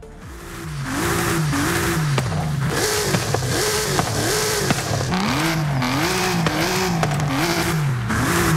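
A W12 twin-turbo car engine in Forza Horizon 5 revs repeatedly, its pitch climbing and falling in a steady cycle of throttle blips, loud and close throughout with no talking.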